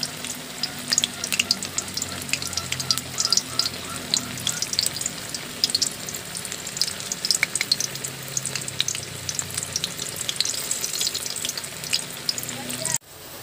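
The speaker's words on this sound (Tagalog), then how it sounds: "mag-prito muna tayo ng ating talong" Eggplant sizzles and crackles steadily as it fries in hot oil in a pan, with occasional stirring, for Filipino binagoongan, then cuts off abruptly near the end.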